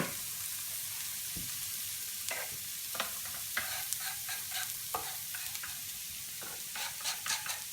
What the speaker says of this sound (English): You want those onions to be browning a little bit